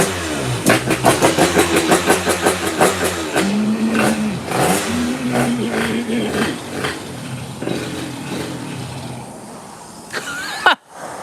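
A cobbled-together 90cc Jog scooter engine revs repeatedly as the throttle is worked by hand, rapid rhythmic bursts settling into a steadier rising and falling drone, loud and close, ending with a sharp clunk.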